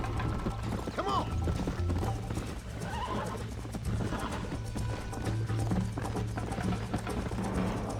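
A horse gallops in the video game Red Dead Redemption, its rapid rhythmic hoofbeats running throughout. A whinny sounds near the start, and faint mechanical clicks sit beneath the steady gait.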